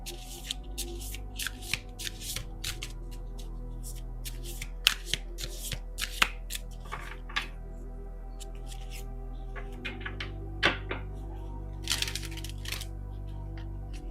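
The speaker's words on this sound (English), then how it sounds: "I will also draw an oracle card for the final advice." A deck of oracle cards shuffled by hand, with a long run of quick riffling flicks and soft slaps that come in bursts, close up over a low background hum.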